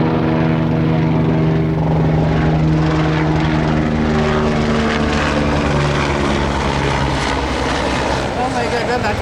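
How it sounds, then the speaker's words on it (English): A fixed-wing airplane passes overhead with a loud, steady propeller-like engine drone that fills the whole stretch, its humming tone holding constant with no break. "Oh my God, that plane pass."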